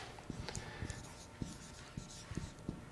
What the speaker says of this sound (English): let me write it down